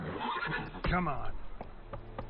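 A horse whinnies loudly in Witcher 3, one clear rising-and-falling neigh near the middle, with someone talking over and around it and a few soft knocks afterward.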